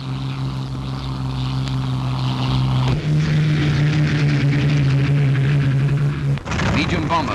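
Propeller-driven P-51 Mustang fighters drone steadily overhead, a loud constant engine hum that shifts pitch once partway through, with a narrator's voice running over it.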